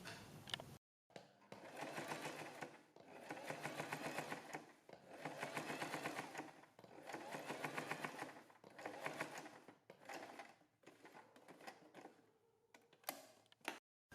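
A sewing machine stitches a printed kurti neckline with potli buttons, running in steady rhythmic bursts of fast clattering needle strokes, pausing briefly between runs, close and clear.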